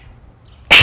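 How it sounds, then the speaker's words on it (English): A single sudden, loud sneeze bursts out of near silence at the very end, close to the listener during an indoor yoga class. "I have a sneeze brewing."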